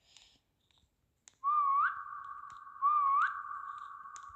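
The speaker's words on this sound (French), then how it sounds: "pourquoi j'ai sifflé? Maintenant, les monstres, ils vont venir." A character in the SCP 3008 video game gives two rising whistles, each a short upward sweep held as a steady tone, clear and fairly loud against near silence.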